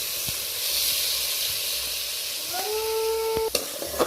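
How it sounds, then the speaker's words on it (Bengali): Lentils frying lightly in a little mustard oil give off a steady, close sizzling hiss. Near the end a short tonal whine and a few light clicks from the pan cut in. "ডালটা অল্প সরষের তেল দিয়ে আমি হালকাভাবে ভেজে নিচ্ছি"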